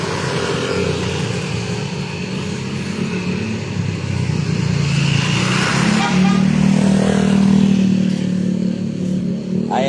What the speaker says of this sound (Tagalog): Malalaking truck.